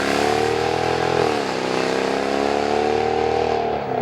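A heavily modified, loud Mercedes C63 AMG V8 revs close by, a sustained roaring drone that dips briefly in pitch midway, then climbs back and holds steady, with no talk.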